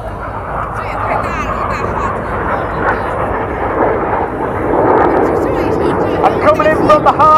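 Red Arrows aerobatic display jets roar overhead at an air show in a broad, swelling wash of engine noise that grows louder toward the end, with a commentator talking over the top.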